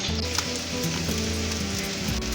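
A cheese omelette roll sizzles in a hot pan just after being flipped, a steady, close, even frying hiss that carries on alone without pauses.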